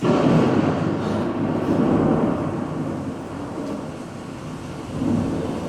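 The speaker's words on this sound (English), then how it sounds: "It's just thunder." Loud, rolling thunder from a storm by the sea rumbles low and continuously, swelling at the start and again near the end, with no voices.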